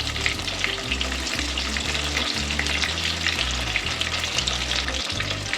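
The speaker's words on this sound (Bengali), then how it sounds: "তেলের মধ্যে এখন আমি দুটো চাপা ছেড়ে দিচ্ছি" Dried chapa shutki fish frying in hot oil for a leafy data shak dish, a continuous close crackling sizzle with low rhythmic knocks of stirring underneath, no talk.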